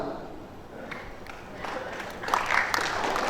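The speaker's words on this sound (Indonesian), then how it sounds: "Jangan cepat tepuk tangan." An audience bursts into applause during a Prabowo speech, starting as scattered claps and swelling into fuller clapping over the last second or so.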